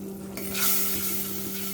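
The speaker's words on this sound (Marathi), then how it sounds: "2-3 मिनिटं हे परतून घ्यायचं आहे चांगलं वाटण।" Colocasia leaf dish with green chilli and garam masala spice paste being fried and stirred in a pan, a steady close sizzle with scraping stir strokes and a low hum underneath, no voices.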